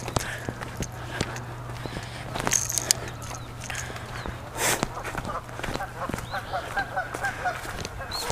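Geese honking in shallow water by a lakeshore during a fishing trip, a series of rhythmic nasal calls in the distance over a steady low hum, with footsteps and a few clicks nearby.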